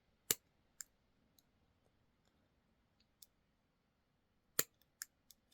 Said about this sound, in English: I'm going to use my pliers. And I'm going to scrunch